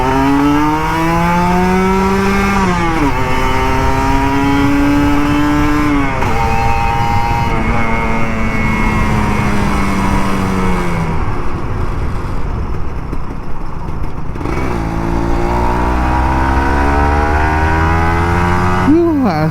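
An older Kawasaki Ninja RR 150 two-stroke motorcycle accelerates through repeated rising gear pulls on a Jakarta road, its close buzzing engine loud and steady for the whole stretch with brief dips between shifts.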